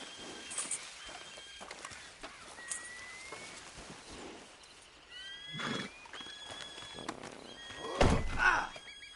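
A horse in Red Dead Redemption 2 whinnies sharply near the end, with a few faint neighs and hoof thunks before it over a quiet outdoor ambience.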